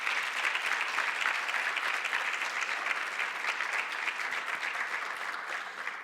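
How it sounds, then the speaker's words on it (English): Steady, full-room applause for Dr. Auguste at an anniversary and mental health symposium, a dense continuous wash of clapping that holds evenly throughout and eases slightly near the end. "Let's give Dr. Auguste another round of applause for that."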